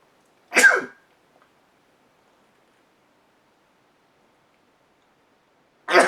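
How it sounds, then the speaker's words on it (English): A person sneezes once, loud and close, followed by near silence and a second brief burst at the end, indoors. "I'm going to sneeze."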